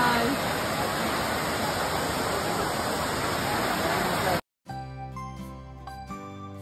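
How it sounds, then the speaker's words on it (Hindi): Waterfall at Bhushi dam in Lonavala, a loud steady rushing roar of falling water that cuts off abruptly after about four seconds, followed by tinkling music. "मुझे तो झरना दिखाई दे रहा है दूर से, तो झरना ही है"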